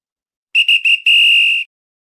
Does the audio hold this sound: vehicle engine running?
no